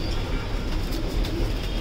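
Racing pigeons coo softly while drinking water, their low calls blending into a steady wash of falling rain that runs through the whole moment.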